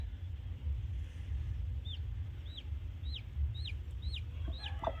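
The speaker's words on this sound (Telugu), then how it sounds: "ఇదిగోండి ఇందులో అయితే కోడిపిల్ల ఉంది ఈ గుడ్లో. ఇదిగోండి మీరు ఒకసారి వినండి." Thin, high chirps come from a chick still inside an unhatched chicken egg, about six evenly spaced peeps in the latter half, close by over a steady low rumble.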